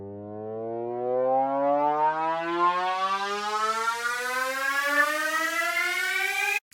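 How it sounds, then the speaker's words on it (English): A rising synth sweep climbs steadily in pitch over several seconds, thick and wide with a shimmering chorus, then cuts off abruptly. "Give the riser some more dimension and space and chorus."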